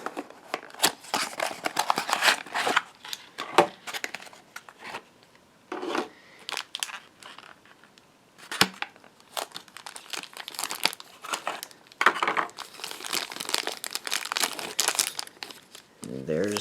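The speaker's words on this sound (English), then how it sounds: "we'll unbox the tender" Packaging crinkles and rustles as a Lionel model train tender is unboxed, with close, irregular bursts of plastic and paper crackling and tearing while a person talks intermittently.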